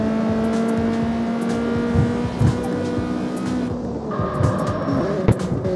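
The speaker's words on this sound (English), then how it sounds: "I love the sound of the Civic in this game" A Honda Civic in the CarX Street racing game revs and accelerates with a loud, rising engine drone, shifting pitch partway through, with a few sharp pops and tire noises.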